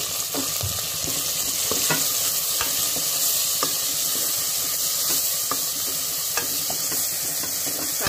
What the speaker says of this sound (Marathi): इथे एक मोठा कांदा उभा चिरून घेतलेला आहे तो टाकणार आहे